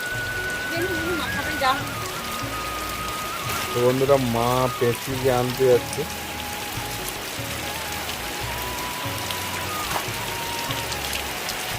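Heavy rain pours steadily onto tin or asbestos roofs in a West Bengal village, a dense continuous hiss that runs the whole time while people talk over it.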